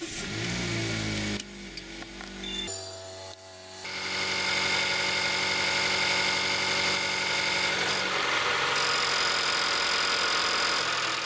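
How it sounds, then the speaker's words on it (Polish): A car engine cranks over, catches and settles into a steady idle with a whine, growing louder after a few seconds and holding an even drone, no voices present. "Start silnika."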